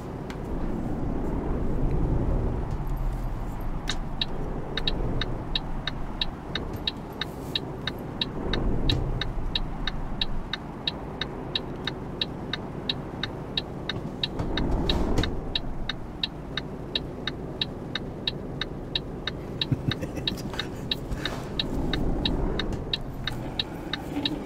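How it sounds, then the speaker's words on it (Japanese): Snow-plowing truck in Euro Truck Simulator 2 drives steadily with a continuous engine drone and a regular ticking hazard-light click throughout, no speech over it. "さあ早速除雪行きます。"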